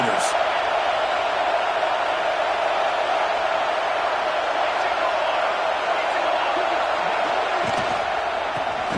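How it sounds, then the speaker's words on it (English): Stadium crowd in College Football 26, Arizona State versus Notre Dame, a steady loud roar of cheering filling the whole stretch without letup, with a brief sharper burst near the start. "Listen to the crowd energy here in the early going."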